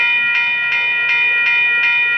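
A northbound Brightline passenger train passes in Melbourne, Florida, with a steady tonal hum and regular clicks of wheels over rail joints, loud and close throughout.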